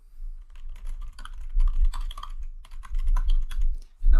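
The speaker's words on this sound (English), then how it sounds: "say we type a username password" Rapid keystrokes on a computer keyboard as a username and password are entered, close and steady with brief pauses between bursts of typing.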